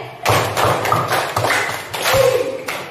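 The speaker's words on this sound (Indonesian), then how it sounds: "Nah, tepuk limanya" Repeated group hand claps in a classroom counting exercise, a run of dull, thumping claps in a loose steady rhythm, close and loud in a reverberant space, with a faint tone briefly under them.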